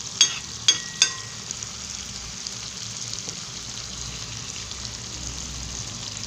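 Prawns fry in hot oil in a pan with a steady, soft, close sizzle, opened by three sharp clinks of a utensil against the pan.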